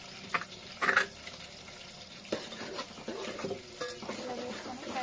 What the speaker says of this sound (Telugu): ఇలా వేసుకొని ఫ్రై చేసుకుంటున్నాను మంచిగా